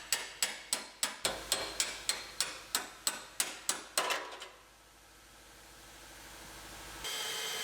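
Rapid, evenly spaced hammer blows ring out on metal, knocking drilled spot welds loose on a 2018 Ford Explorer, about fourteen strikes, then stop, leaving quiet workshop ambience.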